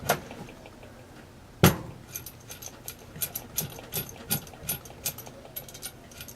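A barrel nut threaded onto a Savage rifle barrel, a sharp metallic clack followed by a series of light, irregular clinks and scrapes of metal on metal, close by.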